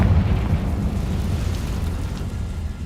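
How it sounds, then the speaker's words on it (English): A sustained, rumbling Confringo spell blast in Hogwarts Legacy, a dense low roar that holds steady throughout with no talk over it. "Confringo."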